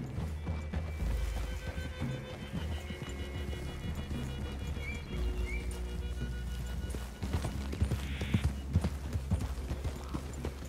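Horse hooves clip-clop in Red Dead Redemption 2 as riders move through a clearing, a steady, uneven run of soft hoofbeats with a brief whinny and faint rustling, quiet and close.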